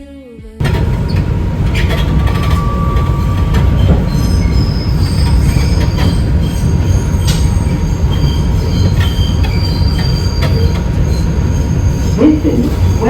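A New York subway train rolls through a station with loud, sustained metal wheel squeal and rumbling rail noise, close and continuous for the whole stretch.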